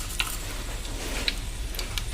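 Bay leaves, cloves and cinnamon fry in oil in a pot for chicken dum biryani, making a continuous close sizzle and crackle with a few small pops and no talk.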